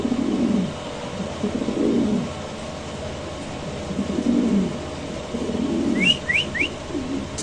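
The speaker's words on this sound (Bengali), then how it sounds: "নরের ডাকটা আমরা একটু সময় নিয়ে দেখাচ্ছি আপনাদের" A male fancy pigeon coos nearby in several low, throaty bursts spaced a second or two apart, with a few faint chirps near the end and no talk.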